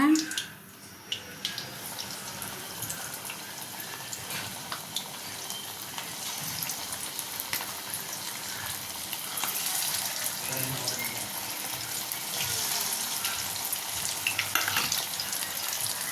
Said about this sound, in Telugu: ఇక మీడియం ఫ్లేమ్లో ఫ్రై చేసుకుంటే లోపల వరకు ఉడుకుతుందండి.